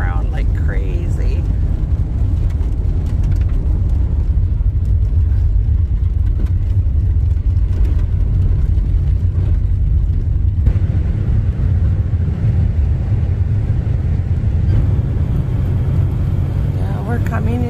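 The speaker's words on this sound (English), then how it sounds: "the gravel just pulls the van around like crazy" A van drives along a rough gravel road in northern Alberta, giving a loud, steady rumble of tyres and engine with constant low road noise throughout.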